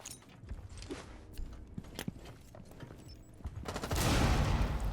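Rainbow Six Siege match audio: scattered gunshots and footsteps in a tense lull, then a frag grenade bursts into a loud, sustained blast roar over the final second.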